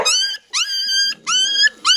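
Three frightened newborn puppies, just starting to grow teeth, whimper after being let out of a sack. Four high, wavering cries come close together, loud and near.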